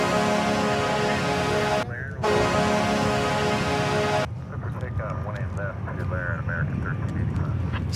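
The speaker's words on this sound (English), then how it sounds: "The Air France is also landing on the west side." An Air France widebody airliner lands at DFW airport, its loud, steady jet engine roar running throughout, with a brief dip and a drop in intensity partway through as a voice talks over it.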